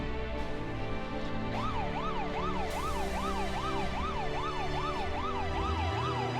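A police car siren from the Roblox prison game wails in steady rising and falling sweeps, loud and continuous over a constant engine-like drone, with a second overlapping siren tone joining partway through.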